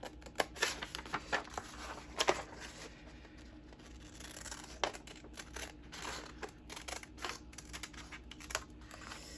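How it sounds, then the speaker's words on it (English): Scissors snipping through eco-dyed paper journal cards, a quiet series of uneven crisp cuts and crinkles close by with no talking. "Well, let's do this with our scissors then"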